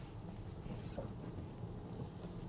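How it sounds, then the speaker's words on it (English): Steady rain with low rumbling thunder heard outdoors, a dense continuous wash of noise with deep rolling energy throughout and no voices. "It's pretty rainy out here."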